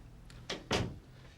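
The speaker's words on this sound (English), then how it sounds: "Shut the door." An interior door pushed shut in a police station office, a short muffled thud with a quick follow-up knock, close and fairly quiet with no talking.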